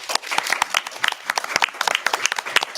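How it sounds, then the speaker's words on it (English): An audience at a free literary festival in Canada claps in a burst of dense, close applause that carries on steadily without letting up. "a huge round of applause to all the staff, volunteers who are making this festival happen"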